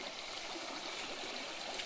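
Snowmelt water streaming over stones along a mountain trail, a steady close, hissing rush with fine gurgling, continuous and alone with no voices.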